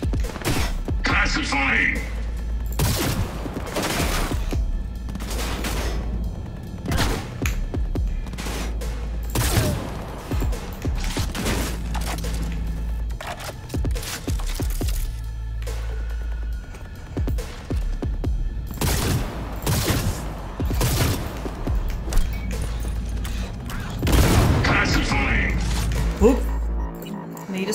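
Explosions in the game Cyberpunk 2077, heard as repeated loud blasts and rumbling thuds over a constant low throbbing drone, spread through the span with a short shouted voice line among them.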